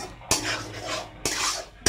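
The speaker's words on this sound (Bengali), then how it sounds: "মশলাটা একটু কষিয়ে নিচ্ছি।" Spice masala for taro curry is stir-fried in a pan, with two sharp scraping clacks of a utensil against the metal, each followed by a brief sizzling swish, close up and without voices.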